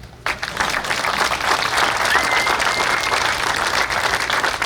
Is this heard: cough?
no